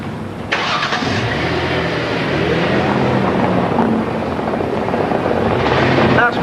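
A car engine revs loudly and steadily as it drives past close by, a sustained roar that swells again near the end.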